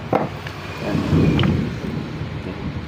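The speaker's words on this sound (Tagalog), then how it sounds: "masama na panahon mga idol at kumukulog na" Thunder rumbles in bad weather: a low, rolling swell that builds and fades over a few seconds, with faint crackles and a soft wash of wind and rain in the background.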